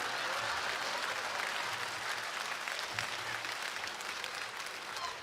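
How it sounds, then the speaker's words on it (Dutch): Sustained audience applause at a Frisian singers' Christmas gala concert, a dense steady wash of many hands clapping throughout, moderately distant with no speech over it. "Und fängt sie mit einem großen Applaus"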